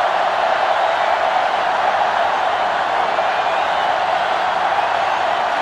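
Steady roar of a stadium crowd in the college football game NCAA Football 2005, Arkansas against Florida, a loud, unbroken wash of cheering noise with no voices rising above it.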